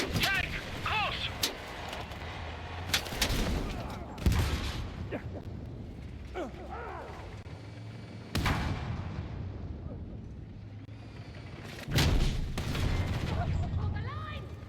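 Suppressive gunfire and explosions in the video game Battlefield 6, heavy bursts of shots and booms arriving in clusters, mixed with shouted voices and battlefield noise.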